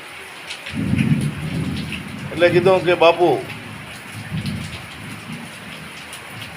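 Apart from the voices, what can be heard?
drizzling rain with thunder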